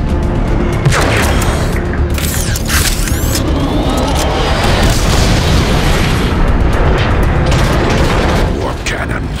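Warp cannon fire in Transformers: Fall of Cybertron: loud, dense booming blasts and bursts roll over each other continuously, with sweeping whooshes and rumbling debris, like heavy weapon fire in a battle.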